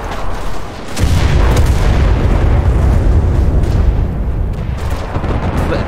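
Artillery strike explosions in the WWII shooter Enlisted: a heavy, close boom bursts in after a short lull, then rolls into a sustained, loud rumble of blasts and debris that slowly eases off.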